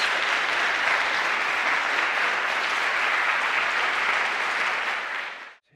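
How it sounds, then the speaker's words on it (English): Audience applauding award winners gathered at center stage at a respect initiative ceremony: dense, steady clapping from a crowd, loud and sustained for several seconds before cutting off abruptly. "how about a big round of applause for all the winners?"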